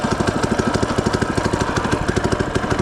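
A FRP GMB 100 retro mini bike engine runs close by with a steady, rapid putter, pulsing evenly like a small idling single-cylinder motor, loud and alone without voices.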